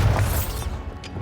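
A Bombarda spell going off in a video game: a deep booming blast with a low rumble up front that decays over about a second, with a fainter burst near the end.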